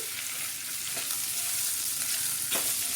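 Raw banana slices fry in a hot pan, a steady loud sizzle with a couple of brief stirring scrapes, heard alone without talk.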